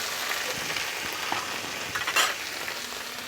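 Pumpkin stir-fried with turmeric in a pan as the water cooks off, a steady moderate sizzle with scraping stirs and a brief louder clatter of the spatula, with no talking.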